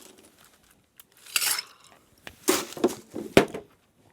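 Ice cubes are dropped into a glass for a tequila cocktail, producing a few bright clattering, cracking clinks in separate bursts against a quiet background.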